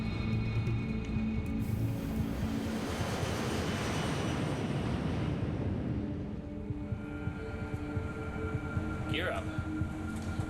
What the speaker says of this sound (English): Despite the winter conditions, the takeoff is routine.